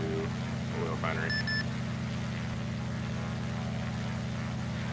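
An aircraft taxiing along a shoreline by an oil refinery in ARMA 3 produces a steady, droning engine hum with a strong low buzz, constant in level, with a brief voice-like chirp near the start.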